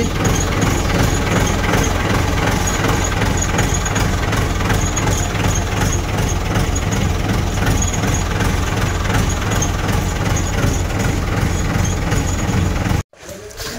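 Kirloskar 63.5 kVA diesel generator set running steadily with a loud, continuous low engine drone and rattling knock, constant throughout before cutting out briefly near the end.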